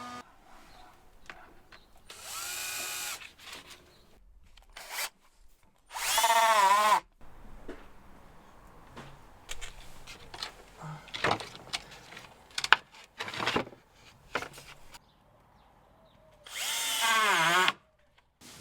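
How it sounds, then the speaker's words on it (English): A power drill drives small screws into glued wood pieces, in three loud whirring bursts that rise and fall in pitch. Quiet handling clicks and knocks fill the gaps between bursts. "to lock it together, I'm going to drive some little screws in."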